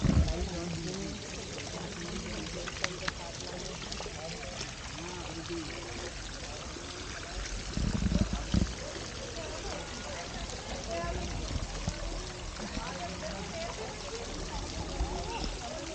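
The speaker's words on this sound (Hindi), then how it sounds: "हाथी की सूंड के अंदर से पानी निकलता, आज भी देखो आप" Water pours and trickles steadily from an old stone elephant-trunk fountain in a 300-year-old garden in Udaipur, a constant close splashing flow with a short louder surge midway.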